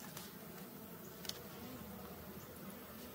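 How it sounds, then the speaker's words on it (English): Honey bees hum steadily around an open beehive being reassembled during a hive beetle problem, a low, continuous buzz with a few faint clicks and knocks of frames, no talking. "I can just slide everything at once without killing a lot of bees."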